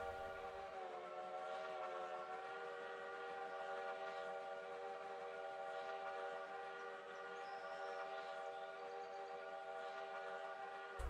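Train whistle in the railway game Railroader, one long sustained harmonic blast held steady for about ten seconds, loud and unbroken with no talk over it.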